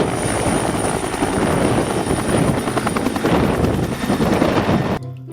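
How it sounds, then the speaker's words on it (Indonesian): Toy rescue helicopter giving off a steady, loud whirring rotor-like buzz that runs without a break for about five seconds, then cuts off abruptly, with no talking. "ini adalah helikopter"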